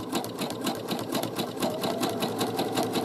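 A sewing machine stitches a zigzag side seam on a garment with a pocket, its needle chattering in a fast, even rhythm of close, steady beats with no voices over it.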